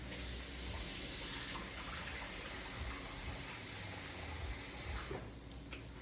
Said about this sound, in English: I usually like to rinse my rice. Give it a good rinse about 2 to 3 times.